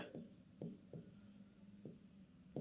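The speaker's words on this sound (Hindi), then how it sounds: "इसे हम उससे लिख देते हैं, दूसरे कलर से लिखते हैं।" Pen strokes scratching across paper, several short rubbing bursts in an uneven rhythm as someone writes in a different colour, close and quiet, with faint talk in the background.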